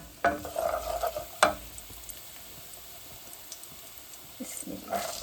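Garlic dropped into hot oil tempered with panch phoron, a cooking base for hog plum curry, sizzling with a few sharp bursts and stirring clatters, fairly close and moderate, fading to a quieter hiss between.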